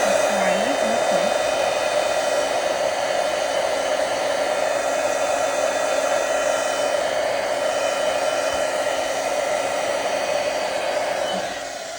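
A hair dryer blowing steadily to dry watercolor paint, a loud, even whir held for the whole stretch that tapers off slightly at the end, with no talking.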